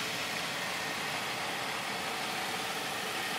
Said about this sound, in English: no noises, just smooth running engine